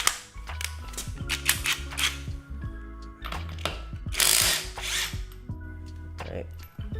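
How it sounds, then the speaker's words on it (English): Pneumatic impact wrench loosening car lug nuts during a test of torque-limiting extension bars, with repeated loud hammering bursts of rattling, stopping and restarting several times close by. "I could probably hit it with the impact a little longer. So let's do a couple more lug nuts just for good measure."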